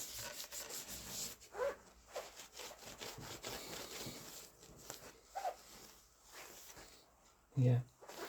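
Cloth rubbing and buffing the grimy back of an Ibanez Talman bass guitar in close, repeated scrubbing strokes, with a few louder bumps as the body is handled.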